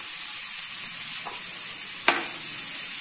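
Chopped bathua greens go into a hot pan for paratha stuffing, giving a steady close sizzle with a couple of brief clacks as they drop in.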